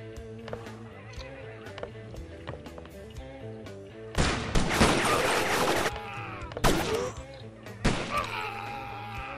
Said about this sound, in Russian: Так, тут пулемет, что ли, где-то?